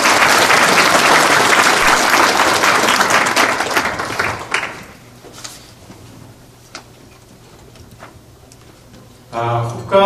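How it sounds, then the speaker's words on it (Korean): Loud, dense audience applause at a chamber of commerce breakfast lasts about four seconds and fades into a quiet room with a few faint ticks and knocks, before a speaker's voice resumes at the end. "이분들한테 큰 박수 한 번 부탁드리겠습니다"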